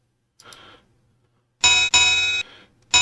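Signal bell codes ring out in a PC-Rail heritage signalling simulation of Halwill: a faint ding first, then a loud, sustained ringing bell struck in a couple of long bursts with short gaps, one more starting at the end.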